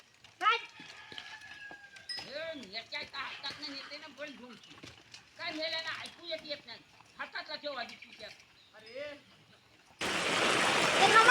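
Heavy rain on a farm field bursts in loudly and steadily for the last second or so, after a stretch of several people chatting and calling out.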